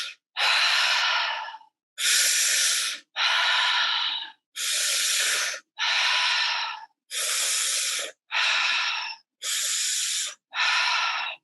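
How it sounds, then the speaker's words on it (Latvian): Steady mouth breathing during a guided meditation, nine loud close inhales and exhales alternating in an even rhythm, each lasting about a second, with short silences between. "tāda ielpa, izelpa caur muti"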